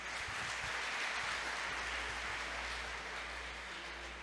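A church congregation claps for several seconds, a faint, even wash of applause with a low hum running underneath.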